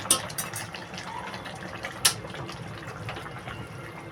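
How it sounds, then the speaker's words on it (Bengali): Thin pabda fish curry is poured from a pot into a bowl, a soft liquid pour punctuated by a couple of sharp metallic clinks. "তরকারিটা গামলায় ঢেলে নেব"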